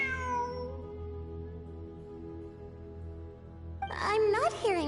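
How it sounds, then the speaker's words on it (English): A cat meows in Genshin Impact during the Return From the Mysterious Realm event, a drawn-out call near the start and then a second burst of rising meows at the end, over a steady hum of game music. "It really is a cat."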